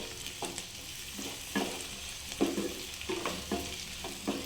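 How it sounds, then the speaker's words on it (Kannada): Chopped tomatoes frying with capsicum in a pan for a capsicum and potato palya, a low, fairly quiet sizzle with repeated soft scraping stirs at an uneven rhythm, and no talking. "ಟೊಮೊಟೊನ ಫ್ರೈ ಮಾಡ್ಕೊಳ್ಳಿ"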